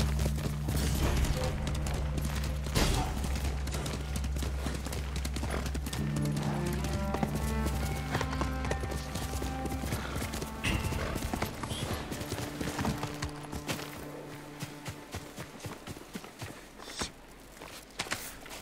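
A horse gallops in the video game Ghost of Tsushima, hooves clip-clopping rapidly in a galloping rhythm, close and loud, with a few sharp clicks mixed in before the pace trails off.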